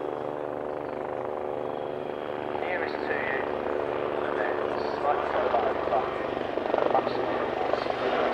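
A Royal Navy Wildcat helicopter's steady rotor thrum and engine whine drone on continuously at moderate distance during an air show at RAF Cosford, with someone talking over it throughout.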